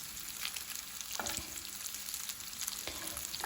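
Brynza cheese sizzles in a hot grill pan, a steady close frying crackle with a few sharper pops and stirring clicks throughout, no voices.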